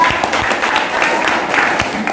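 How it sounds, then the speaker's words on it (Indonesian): Students in a school classroom clapping together, a short burst of brisk, fairly loud applause that holds steady for a couple of seconds with a murmur of young voices mixed in. "Tepuk tangan dulu dong buat kita."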